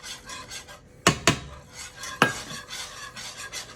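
A spoon stirs a thick mac and cheese sauce of heavy whipping cream and smoked paprika seasoning in a pot, giving a continuous wet scraping with a few sharp clinks against the side, close and fairly loud, no talking.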